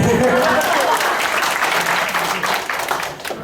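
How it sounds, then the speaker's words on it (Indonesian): Crowd applause at a stand-up comedy show in Palembang, loud and dense at first, then gradually thinning and fading out over a few seconds. "Tepuk tangan untuk Pak Komtek."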